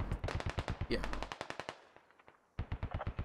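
Machine gun fire in the video game Operation: Arrowhead, loud close bursts of rapid rhythmic shots with a brief pause before another burst resumes.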